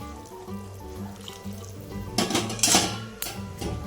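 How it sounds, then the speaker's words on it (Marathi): Hot water is poured into a pot of chicken biryani, a soft trickle with clinks of a metal pot, fairly faint and close, with no talk. "हे गरम पाणी मी टाकलं आहे।"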